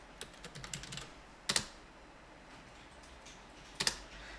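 Keystrokes on a computer keyboard as a folder name is typed on a desktop, in two short bursts of quick clicks separated by quiet pauses, close and clear with no talking.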